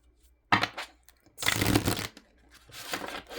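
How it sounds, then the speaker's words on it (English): Oracle cards being shuffled in a few quick riffling bursts separated by short pauses, close and moderately loud. "that was a terrible shuffle"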